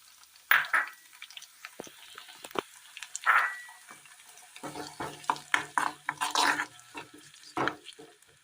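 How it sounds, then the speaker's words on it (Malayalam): Beaten egg goes into a pan of softened sautéed onions and is stirred, with scraping spatula strokes against the pan over a light sizzle, in irregular close bursts. "ഇതിലേക്ക് അടിച്ചെടുത്ത മുട്ട ഒഴിച്ചു കൊടുക്കാം."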